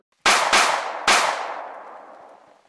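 Three loud, sharp gunshots from a Stalker game modded with Half-Life characters, two in quick succession and a third after a short pause, each leaving a long fading echo.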